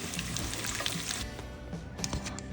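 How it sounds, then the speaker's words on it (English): Bacon frying in a pot for gumbo gives a steady, close, crackling sizzle with dense spitting pops throughout, no voices. "I'm frying some bacon so we can get some bacon juice inside my pot."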